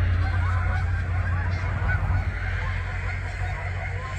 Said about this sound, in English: Yeah, they're talking to each other. And how do you call those, buddy? They're Canadian geese.